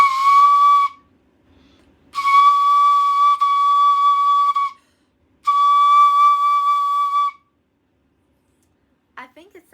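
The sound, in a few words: Japanese ryuteki flute being played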